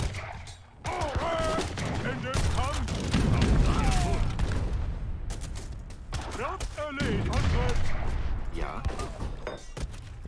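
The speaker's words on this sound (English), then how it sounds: "Blow them out of the water, cannons." Repeated booming cannon blasts and crackling explosions from video game cannon fire in a dense, chaotic barrage, with a voice talking over parts of it.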